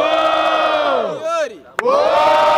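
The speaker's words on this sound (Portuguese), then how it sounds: "Muito barulho pra quem gostou da rima do Medina" A loud crowd at a student rap battle in Guarulhos roars and shouts in a dense wall of voices, swelling, dipping briefly, then surging back after a sharp clap-like hit.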